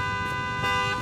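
A sustained in-game car horn from Satisfactory holds one continuous tone, fairly loud and alone, with no talking.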